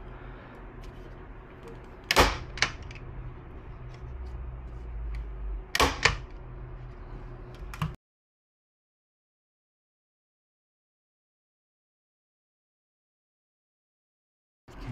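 Canvas is stapled onto a wooden frame with two sharp, loud staple-gun snaps a few seconds apart, each ringing briefly over a quiet background, followed by silence.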